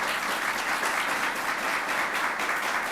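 Steady applause from an audience at a 35th-anniversary Americans with Disabilities Act event, honoring Deborah Yancey, a state employee; dense even clapping fills the whole stretch at moderate volume with no talking.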